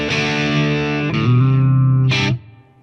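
Gibson Les Paul Studio electric guitar played distorted through both humbucker pickups, loud sustained chords that shift midway and ring out, ending with a bright scraping burst before fading to a low hum.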